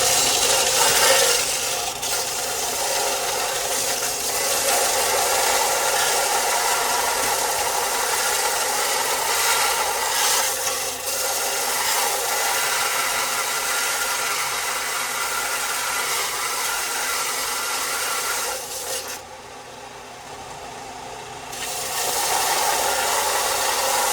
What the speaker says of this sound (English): So I'm gonna change the belt and then regrind all this.